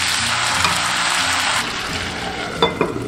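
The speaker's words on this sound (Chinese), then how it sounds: "砂锅预热，倒入少许食用油，下入洋葱、大蒜、生姜，点香，炒至香味就可以了。" Onion, garlic and ginger sizzle and stir-fry in a little oil in a preheated clay pot, steady loud frying hiss with a few scraping stirs near the end.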